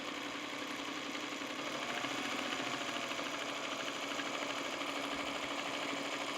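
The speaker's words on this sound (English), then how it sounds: "I'm worried that the machine might be too loud if I go full pace." Sewing machine stitching jelly roll 16-patch quilt blocks at a slower-than-usual pace: a continuous, steady mechanical whirring and rapid needle ticking, moderately close and quiet, with no voices.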